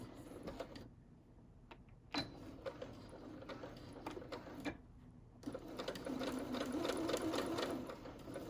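A sewing machine stitches a bomber jacket lining closed in short bursts of rapid mechanical whirring, broken by brief pauses, ending with a longer, steadier run.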